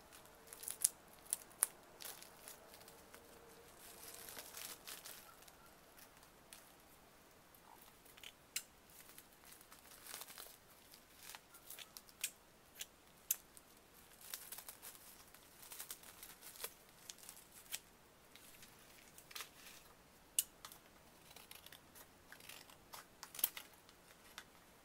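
Scissors snip through cardboard, fabric and paper in a soft, close-up session, giving an irregular run of crisp cuts, rustles and crinkles. The cuts are quiet but intimate, with no talking.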